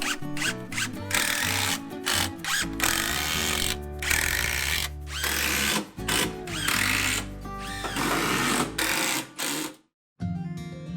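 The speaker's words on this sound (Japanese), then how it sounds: "すのこはビスで留めます。" Power driver running screws into the slats of a hand-cut timber woodshed, built without metal fasteners, as continuous buzzing whirs with brief pauses between screws and a short silent gap near the end.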